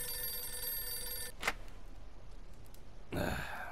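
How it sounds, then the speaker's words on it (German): Telephone ringing in Mafia 2: an electric bell with buzzing harmonic tone sounds at the start, stops, then a soft breath and a second ring burst near the end. "Ist das dein Telefon? Das ist ein Telefon."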